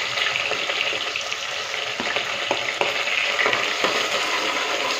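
Onions fry in hot oil for a chicken pulao, a loud, dense, continuous sizzle with faint clicks of stirring and no talk.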